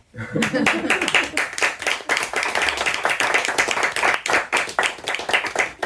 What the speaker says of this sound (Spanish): Yo creo que un aplauso tranquilamente, ¿no?